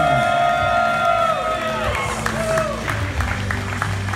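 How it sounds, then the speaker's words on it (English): Wedding guests applaud and cheer steadily for the newlyweds, with whoops and a voice or two mixed in, amid a lively hall with music tones in the background. "let's give another big round of applause for Mr. and Mrs. Jon Redmond"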